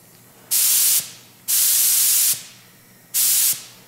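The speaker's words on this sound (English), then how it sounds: "when you pull the nozzle only halfway, it allows you to check your pressure and adjust it without actually spraying paint" A paint spray gun loaded with hardening coating for a truck trailer hisses in three loud bursts of about half a second to a second each, separated by brief pauses, close and with no talk.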